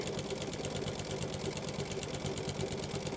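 Sewing machine fitted with a walking foot stitches through fabric in a steady, fast mechanical whirr with a continuous rapid rhythm, close and fairly quiet, with no talking.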